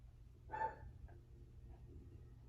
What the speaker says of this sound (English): If you hear my German Shepherd,